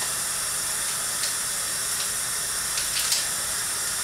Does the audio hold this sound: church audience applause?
no